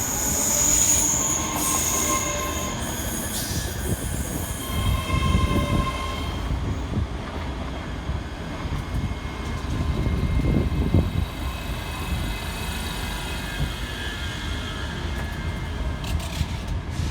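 A pair of Scotrail class 385 electric units pulls into Haymarket station in Edinburgh, wheels squealing and rumbling close by as the train slows, with a brief high horn-like tone near the start and steady rail noise throughout.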